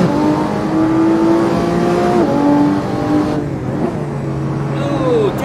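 Lamborghini Aventador SV with a 759-horsepower petrol engine lapping the Top Gear Test Track in Assetto Corsa, its engine holding a loud, steady high whine that drops sharply at gear changes and rises again, with faint tire squeal.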